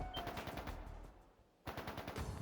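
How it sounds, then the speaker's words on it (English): Rapid bursts of gunfire in a battle within the video game Trails of Cold Steel III, set in a canyon ambush, loud repeated volleys with a brief pause before firing resumes, no talk. "Gunfire from deeper in."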